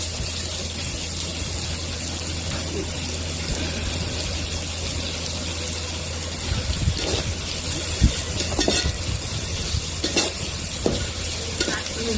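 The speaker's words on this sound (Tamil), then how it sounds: "நல்லா ஃப்ரை பண்ணணும் நல்லா பொறுமையாக ஃப்ரை பண்ணணும்" Fish curry ingredients fry steadily in a pan, a dense, even sizzle with occasional sharper pops and stirring clicks, close and constant throughout.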